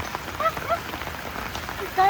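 Steady rain falls on a surface during a heavy downpour, a continuous hiss with some brief scattered drops, fairly close and even in level throughout.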